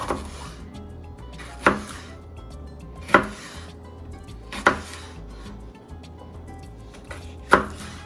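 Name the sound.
knife cutting red pepper lengthwise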